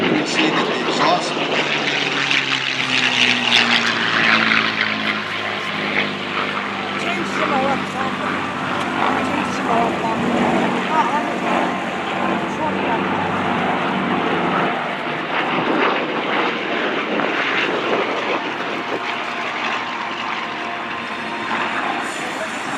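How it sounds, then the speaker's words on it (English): A B-25 warbird's piston engines drone loud and steady as it comes in to land at a 2015 New England airshow, a broad continuous roar with shifting tones while an announcer talks over it throughout. "aircraft out on final approach. Going to be touching down momentarily. I believe that is the B25 touching down."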